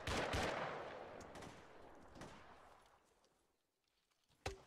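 Arma 3 video game gunfire: a loud burst of rapid shots at the start that fades into scattered reports and echoes, then one more sharp shot near the end.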